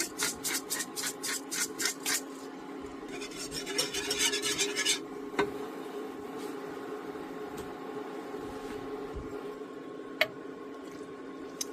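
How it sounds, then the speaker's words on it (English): A pepper grinder cracks pepper over a beef pot roast in a crockpot, a quick series of rhythmic rasping grinds up close, then a denser burst of grinding before fading to a quiet hum with faint clicks. "And some cracked pepper."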